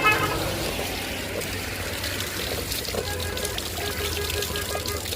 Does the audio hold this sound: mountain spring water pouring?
yes